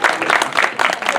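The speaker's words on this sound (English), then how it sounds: "Give yourselves a round of applause." Audience applause at a sword swallowing stage show, a short, close burst of dense clapping in steady waves that fills the moment.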